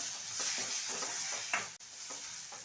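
Garlic, chilli and salt sauté in a pan for tomato chilli thecha, with a soft steady sizzle and occasional scraping strokes of a spatula, close and quiet.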